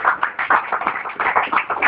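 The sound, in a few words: congregation clapping hands in church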